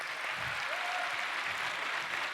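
A church congregation at the Hansomang Church thanksgiving special night event in Korea claps steadily for a couple of seconds, a dense, even wash of applause at moderate volume.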